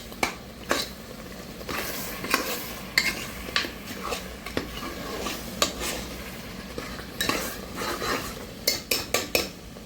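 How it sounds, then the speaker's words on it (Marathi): Spices and turmeric being stirred in oil in a pan for a spicy chicken curry, with a metal spoon scraping and clinking against the pan in irregular strokes and a soft sizzle underneath, fairly close. "चांगलं मिक्स करून घ्यायचे सगळे मसाले"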